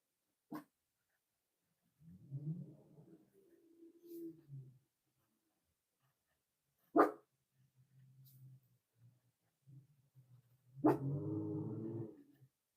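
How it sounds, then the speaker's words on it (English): A dog gives a few sharp, spaced barks, separated by long pauses, with someone talking quietly in between. "what are you barking at, buddy?"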